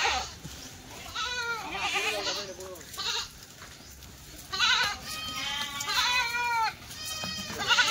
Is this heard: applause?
no